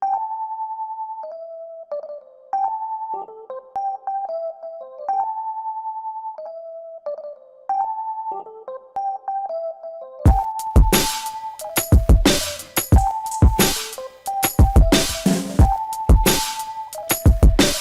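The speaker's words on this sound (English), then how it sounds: "I used the Rhodes solo, and I chopped that up a little bit" A chopped Rhodes electric piano solo sample from the New York Keys kit plays a choppy repeating pattern alone at first, then a dense drum beat enters under the same keys for the second half.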